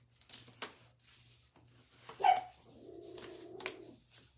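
A dog barks indoors, a few short sharp barks followed by a drawn-out whining bark, fairly close though not loud, against a quiet room hum.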